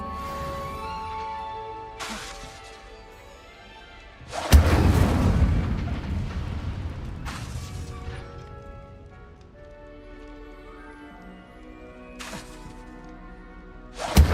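Incendio fire spell cast at targets in Hogwarts Legacy: several booming blasts, one big roaring burst with a long rumbling tail and a few sharper hits later, set over a quiet tonal game score, with no talk.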